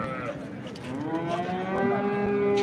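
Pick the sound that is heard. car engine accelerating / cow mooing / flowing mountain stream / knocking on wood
cow mooing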